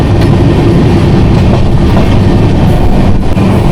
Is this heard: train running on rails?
yes